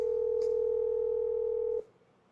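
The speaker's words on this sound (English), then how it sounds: "Let me call him." A steady telephone tone sounds as a call is placed, holding loud and even for nearly two seconds before cutting off abruptly into quiet background.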